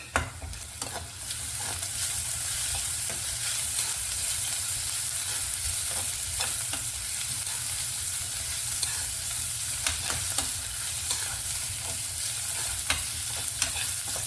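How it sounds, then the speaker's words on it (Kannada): Garlic and ginger fry steadily in a pan for a bitter gourd palya, a dense continuous sizzle with scattered stirring clicks and scrapes throughout, close and fairly loud. "ಇಟ್ಕೊಂಡಿರೋ ಬೆಳ್ಳುಳ್ಳಿ ಮತ್ತು ಶುಂಠಿನ ಹಾಕೋಣ ಅದನ್ನು ಚೆನ್ನಾಗಿ ಫ್ರೈ"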